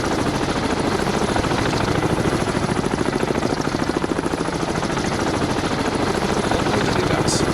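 A helicopter in the submarine game Cold Waters thrums with a loud, fast, steady rotor chop that holds evenly throughout, with no voices.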